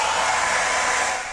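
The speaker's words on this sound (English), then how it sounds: "this is not a hair dryer. It's actually I forget what they call them, but it's hotter than a hair dryer." A heat gun blows hot air to loosen a guitar bridge at a workbench, a steady loud rushing hiss held close for a moment with no talking.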